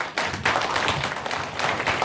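Applause at a redevelopment design forum meeting in Seongsu, a brief patter of clapping from a modest audience, moderately faint and steady, with no speech over it.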